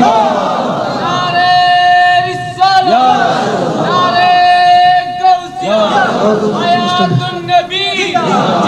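A large crowd at an Islamic sermon gathering shouts the takbir response in loud unison, in several long rising chant waves separated by brief pauses, with the massed voices near and powerful.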